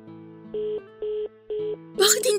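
A phone being dialed in a radio drama: three evenly spaced electronic tones ring out one after another over a low hum, then a voice starts speaking at the end.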